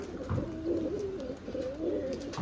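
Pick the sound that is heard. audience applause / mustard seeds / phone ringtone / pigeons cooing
pigeons cooing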